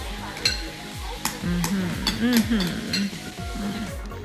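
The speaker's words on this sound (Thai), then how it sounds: "mix it together yes there you go" Noodles being stirred and mixed with ground peanuts in a bowl, soft rhythmic scraping and light clinks of utensils against the dish, close by, with occasional voices in the background.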